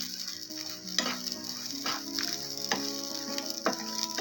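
Coriander seeds fry in hot oil for a Kolhapuri paneer masala, giving a steady close sizzle with a few soft clinks of a spoon against the pan. Nobody speaks.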